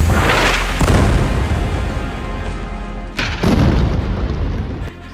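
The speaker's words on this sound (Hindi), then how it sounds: "बेरूत में यह धमाका तब हुआ जब पूरी दुनिया नेतन्याहू और हिजबुल्लाह के बीच युद्ध विराम के लिए एड़ी चोटी का जोर लगा रही थी।" A bomb explosion in Beirut during an Israeli strike on Lebanon, heard as loud, rumbling blasts with sharp booms rising out of a continuous roar, close and overwhelming, with no talk.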